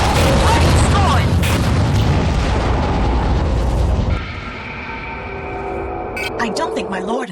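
In the Aquanox game, a destroyed target erupts in a heavy booming explosion that fades into a lower rumble, followed by a voice and electronic beeps.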